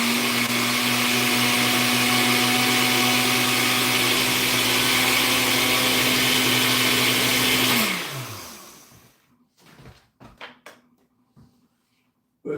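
A blender runs loud and steady for about eight seconds mixing a protein shake, then winds down to a stop, leaving a few faint clinks and knocks afterward.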